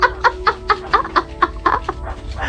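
A chicken clucks in a quick, regular series of short, sharp calls, close and fairly loud, slowing slightly toward the end.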